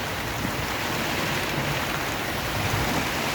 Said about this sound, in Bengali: শুধু ঢেউ হচ্ছে আর বৃষ্টি, প্রচুর বৃষ্টি হচ্ছে।